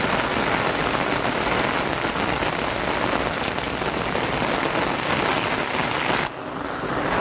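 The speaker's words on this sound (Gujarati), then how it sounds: "અને વરસાદ ચાલુ ને ચાલુ." Heavy rain pours down without letup, a dense, loud, even hiss of drops on surfaces that eases slightly near the end.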